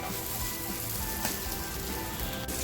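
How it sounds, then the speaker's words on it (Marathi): Bombay duck fish pieces frying in a pan, a steady dense sizzle of hot oil holding at an even level throughout with no voices. "आता पटकन मी फ्राय करून घेते"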